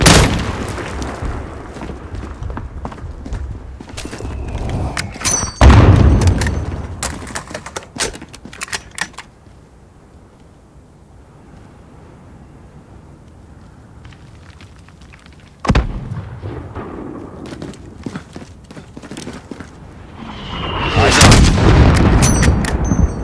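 Heavy mortar blasts boom in Call of Duty: Modern Warfare (2019) gameplay, loud bursts with rattling debris and gunfire, separated by a quieter stretch before another impact and a rumbling final barrage.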